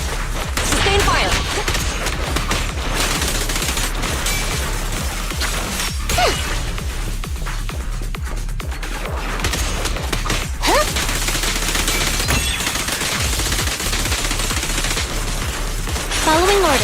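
Sustained automatic gunfire in the Zenless Zone Zero video game, a dense, continuous barrage of rapid shots with whooshing effects, loud throughout, with character voices speaking over the combat.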